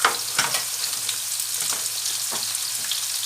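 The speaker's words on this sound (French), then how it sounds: "On va faire un poisson dans la poêle à poisson." Marinated sea bream and onions frying in a fish pan give off a steady, bright sizzle with faint crackles and light stirring scrapes, close and continuous.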